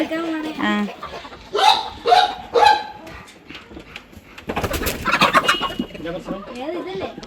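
Chickens, including a rooster, cluck and squawk in a few short bursts nearby, with people talking over and between the calls.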